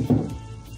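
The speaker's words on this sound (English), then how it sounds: "You should heat it up as much as possible to come to about 350 degrees so that it's sizzling." Oil heating to about 350 degrees in a frying pan for a spicy sweet potato hash gives a brief, steady, close sizzle with a slightly stronger burst near the start.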